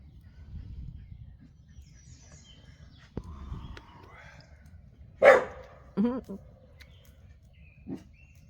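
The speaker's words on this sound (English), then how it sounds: "Listen to them dogs in there." Several dogs bark in short bursts from inside an enclosure outdoors, a sharp loud yelp followed by a couple of quicker barks, with birds chirping faintly and low rumbling noise in the background.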